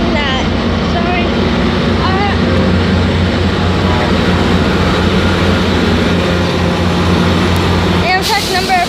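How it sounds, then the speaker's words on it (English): Amtrak train 463 idling at a San Jose depot before departure, a loud continuous diesel rumble with steady engine drone throughout, close by and unbroken. "Amtrak number 463 is getting ready to leave."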